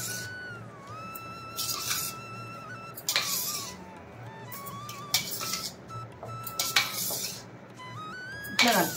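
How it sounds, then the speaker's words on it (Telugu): A spoon scrapes and clinks against a metal pot while tamarind rice is turned and mixed with its tempering, giving intermittent metallic scrapes and knocks with louder clatters near the end over a faint steady background hum. "ఇట్లా కింద నుంచి ఇట్లా పైకి కలుపుకోవాలి."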